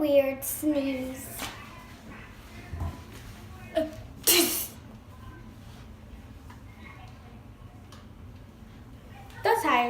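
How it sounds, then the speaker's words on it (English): A person performs an odd, exaggerated sneeze, a burst of breathy hiss mid-clip set among vocal sounds, with speech-like voicing before and after in a quiet room. "The weird sneeze."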